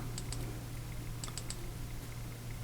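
Button on a Sofirn SP33 v3 flashlight clicked in quick pairs, crisp close clicks in small clusters over a steady low hum, with no talk.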